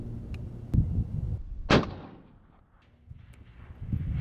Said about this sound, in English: That was it, that was the last shot.